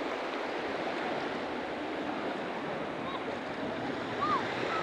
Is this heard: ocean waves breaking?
yes